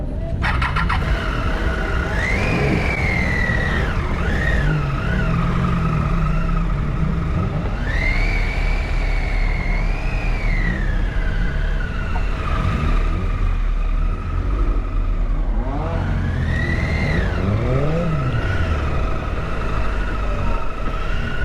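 Cars at the Gardermoen race track near Oslo, Norway, during a motor show: loud engines rise and fall in repeated revving sweeps over a constant roar of crowd and traffic noise.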